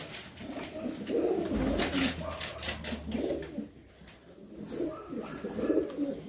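A pigeon, a blue bird with white eyes being checked at a pigeon market, gives soft repeated coos close by. Handling noise and background bustle run underneath.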